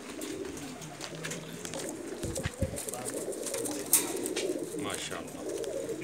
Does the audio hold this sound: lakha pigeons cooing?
yes